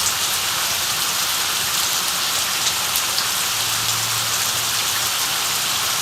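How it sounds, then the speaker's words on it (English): Heavy rain pours down steadily, a dense, loud hiss of drops hitting surfaces throughout, with no talking. "it's raining very hard."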